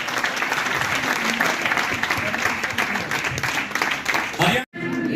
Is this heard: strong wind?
no